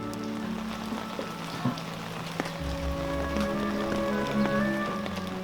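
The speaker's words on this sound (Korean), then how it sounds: "이럴 때는 빗소리 베개 삼아 느긋한 하루를 보내도 좋을 것 같습니다" Steady spring rain in a mountain village at Jirisan, South Korea, patters on surfaces in a soft, continuous hiss, with scattered drips and a low hum in the background.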